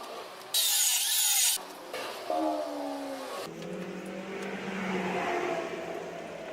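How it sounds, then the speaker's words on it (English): Jigsaw cutting wooden cross brace pieces for a rabbit pen frame, loud bursts of buzzy sawing with pauses between cuts and shifting pitch as the blade works through the wood. "So I use a jigsaw to cut these pieces out"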